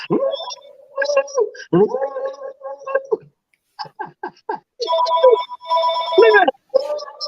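An old Motorola digital car phone rings in repeated bursts with pauses between them, while someone talks loudly over and around the rings.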